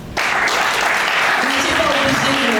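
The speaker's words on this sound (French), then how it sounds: "Est-ce qu'on va applaudir pour ça?" Audience applause at an eloquence contest, a dense wash of clapping that starts abruptly and holds steady and loud, with voices mixed into the crowd noise.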